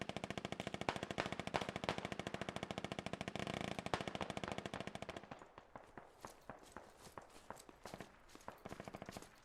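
Machine gun fired on full auto in a tactical shooter game, a long unbroken burst of rapid, evenly spaced shots that grows slightly quieter and sparser midway but keeps hammering to the end, loud and close.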